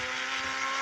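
A motorbike engine revs steadily and loudly at close range, a continuous buzzing drone with no speech over it.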